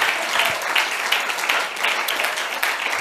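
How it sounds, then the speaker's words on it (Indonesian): A church congregation breaks into steady, sustained applause during a worship service, a dense wash of many hands clapping that fills the room without pause. "Kita berikan tepuk tangan buat Tuhan."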